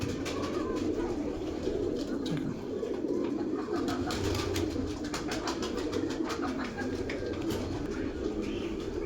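Pigeons cooing repeatedly in soft low bursts, fairly close, over a constant background hum with occasional faint clicks.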